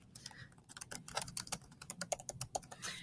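Quick bursts of keystrokes on a computer keyboard, close and fairly quiet, tapping in an uneven rhythm with no voices.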